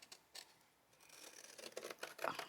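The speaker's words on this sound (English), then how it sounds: "You can just grab the bigger scissors, so you will get a one shot" Close, quiet snips and crisp slicing of large scissors through paper, several cuts in quick succession building to a longer cut near the end, with no voices.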